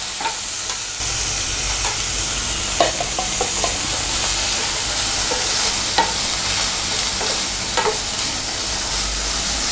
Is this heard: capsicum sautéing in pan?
yes